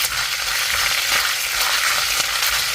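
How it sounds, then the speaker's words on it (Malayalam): Ginger and green chillies fry in hot oil in a pan, a loud continuous crackling sizzle with occasional stirring scrapes, close up and without talk. "ഇഞ്ചി പച്ചമുളകും ചെറുതായിട്ടൊന്ന് മൂത്ത് വരണം അല്ലേ?"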